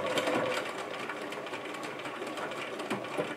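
A Bernina 1080 sewing machine stitches a buttonhole, its needle running in a fast, steady mechanical patter, close and continuous throughout with no voices.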